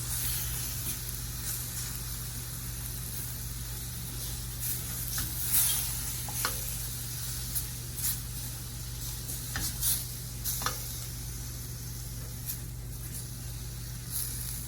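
Tomato and potato curry with cumin and coriander powder stirred in a pan for Gujarati ringan batata nu shaak, a soft, steady sizzle with occasional spoon scrapes and taps, with no talking.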